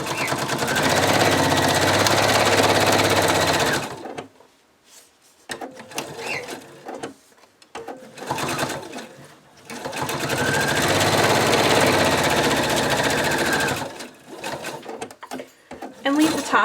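Sewing machine stitching around the tail piece of a cockatiel plushie, running in two long steady bursts of rapid whirring with quieter pauses and handling noise between them.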